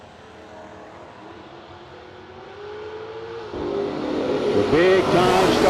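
At a drag strip, a 1968 Camaro and a competitor launch off the line: a low idle rumble suddenly swells into a loud roar of engines, then climbing revs as the cars accelerate away.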